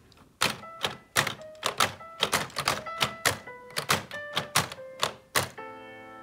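Keys on a LEGO Grand Piano set are pressed in a steady run, each one a close wooden-plastic clack that comes with a short piano note, ending on a sustained chord.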